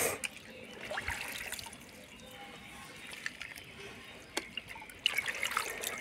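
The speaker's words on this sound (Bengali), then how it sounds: "কমলি শাকগুলো আমি প্রথম ভালো করে জল দিয়ে ধুয়ে নিচ্ছি।" Kamli greens are rinsed by hand in water for a vegetarian dish, giving soft splashes, trickles and wet squishing at close range, with a few sharper drips and handling noises toward the end.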